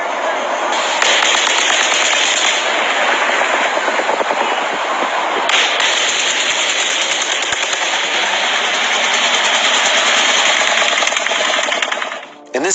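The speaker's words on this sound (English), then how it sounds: "It sounds like automatic gunfire." Continuous rapid automatic gunfire rattles on for many seconds as a dense, distant-sounding stream of shots, with a brief pause near the start and a short gap before it fades at the end.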